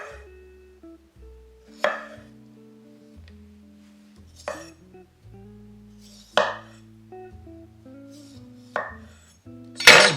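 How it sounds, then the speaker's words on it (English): A Korean chef knife by Shin In-Young slices thin pieces on a board, each stroke a sharp close knock with a light clink, spaced every couple of seconds in an otherwise quiet room. "I'm not exerting any force really, just letting the knife do all the work here."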